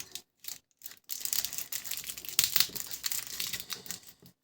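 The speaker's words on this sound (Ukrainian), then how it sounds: "І зараз ми його склеїмо скотчем." Close crinkling and crackling of tape being pulled and pressed down, in irregular bursts with short pauses between.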